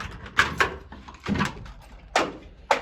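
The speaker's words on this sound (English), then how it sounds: "We'll get this door opened up." A trailer door being unlatched and opened: several separate metallic clunks and rattles spaced over a few seconds, close and moderately loud, with no talking.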